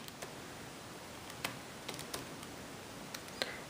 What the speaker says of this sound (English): And then I'm going to type that into a calculator.